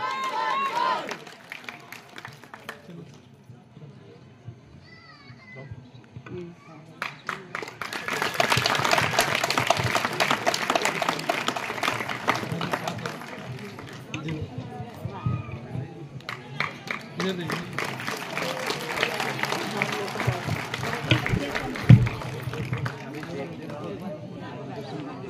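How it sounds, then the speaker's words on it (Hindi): At a school event, a crowd claps for a teacher in swelling waves of applause that rise, ease and return over a long stretch, with voices and a presenter talking over parts of it. "जोरदार तालियां गुरुजी के लिए"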